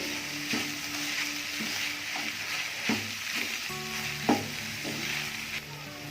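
Chicken samosa filling with mayonnaise being stirred in a frying pan, a steady soft sizzle with repeated scraping strokes and occasional utensil clinks against the pan, close and fairly quiet, with no voices.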